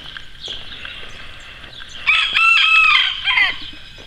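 Backyard chickens clucking, then a rooster crowing loudly and close by, the crow rising sharply midway and trailing off into further clucks, with no talk.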